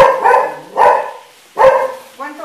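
Dogs, including a dachshund, bark while playing together: three loud, sharp barks at uneven intervals, followed by a softer, higher yip at the end, close to the microphone.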